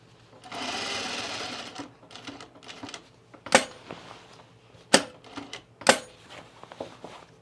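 A domestic sewing machine stitches a shirt placket with a short stitch length: one sustained whirring run, then several brief bursts of stitching with quiet handling gaps between.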